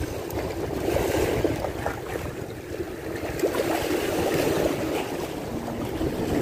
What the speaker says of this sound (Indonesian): ini ombaknya udah mulai gede nih ya